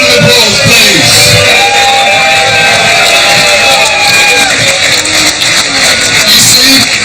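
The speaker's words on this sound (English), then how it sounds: "Another round of applause, please." Loud crowd at a hot chili-eating event, sustained cheering, whooping and shouting mixed with broad clapping that stays dense and close for the whole stretch.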